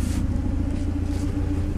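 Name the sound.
Saab 900 Turbo 16s engine running smoothly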